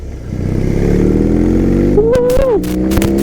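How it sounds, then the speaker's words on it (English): A BMW R18 First Edition motorcycle's large boxer engine revs loudly and close, building over the first seconds and then holding a steady drone with a brief rising whine and some clatter, no voices. "This is a lovely motorcycle from BMW."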